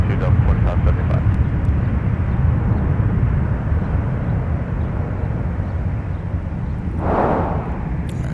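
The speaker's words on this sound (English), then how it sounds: "Let's take another look at our Delta arriving on the south parallel. 737-900ER coming in this morning." Delta Boeing 737-900ER airliner arriving on the south parallel runway at MSP airport, a loud continuous low jet roar heard from outside with wind buffeting, and a brief gust of rushing noise near the end.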